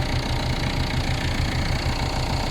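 A Ford Fiesta 1.6 TDCi diesel engine runs nearby, giving a loud, steady, rhythmic knocking idle with a throbbing low pulse and no voices.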